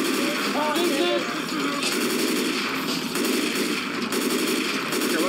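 Gunfire in the video game Left 4 Dead 2 keeps up as a dense, continuous rattle of automatic shots filling the scene, with voices talking over it.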